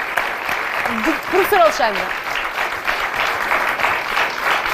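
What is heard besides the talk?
studio audience applause for the guests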